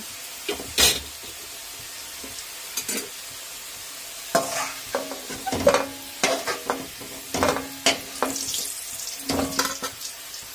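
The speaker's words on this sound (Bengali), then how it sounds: "আমার আলুটা কিন্তু খুব সুন্দর লাল লাল করে ভাজা হয়ে গেছে" Scraping and stirring clatters in a pan of frying potatoes over a low sizzle, with irregular bursts of utensil contact, close and fairly loud.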